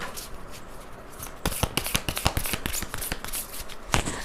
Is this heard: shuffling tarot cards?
yes